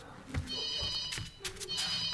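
Doorbell ringing with an unusual ring: a repeated electronic chiming tone in short bursts over a couple of seconds, with soft thuds and movement in a room.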